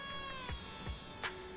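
Cats in Zenless Zone Zero, a video game, making short meow-like calls, a few brief bursts spaced apart over a steady tonal game backdrop.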